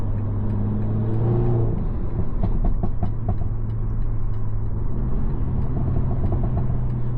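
A 300hp BMW G20 320i LCI drives through city streets, its engine holding a steady low drone with a few soft knocks, heard from inside the car with no talking.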